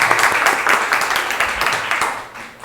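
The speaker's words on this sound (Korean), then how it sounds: "박수 합시다" Church congregation clapping together during a Psalm service, a steady run of hand claps with rhythmic peaks, fairly close and moderately loud, fading slightly toward the end.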